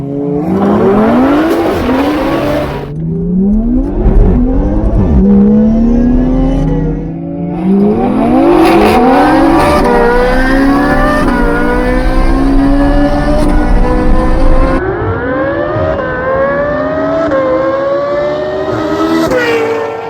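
A Ferrari and a Supra drag racing, engines revving hard through repeated rising gear pulls, loud and close for the whole stretch with no talk.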